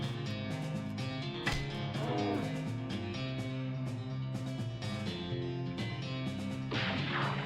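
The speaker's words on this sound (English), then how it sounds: "we're stabbing the fuck out of a cow" Combat hits in the video game West of Loathing as a cow is stabbed: repeated sharp thwacks and crashes over steady game music, several impacts spaced irregularly across the stretch.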